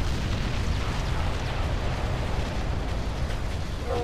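An enemy pterodyne is destroyed in a video game, giving a dense, roaring explosion rumble that carries on loud and unbroken.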